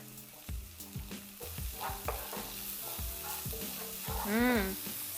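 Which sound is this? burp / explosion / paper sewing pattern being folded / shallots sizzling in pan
shallots sizzling in pan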